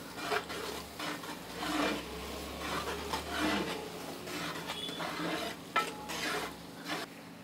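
A ground coriander-mint paste being stirred into simmering mutton leg paya: steady, close scraping and rubbing of the spoon against the pot, continuous with a soft sizzle underneath.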